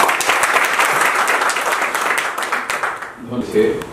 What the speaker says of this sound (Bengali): প্লিজ ওনাদের জন্য একটা বড় তালি